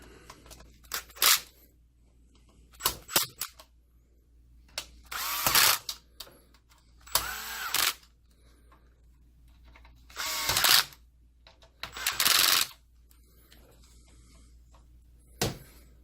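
A drill driver with its clutch turned way down runs in short bursts on screws of a BenQ MX710 projector, giving about eight close whirring spins of one to two seconds each, split by quiet pauses.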